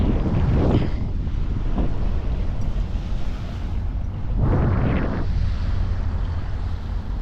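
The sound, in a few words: water taxi boat ride over waves with wind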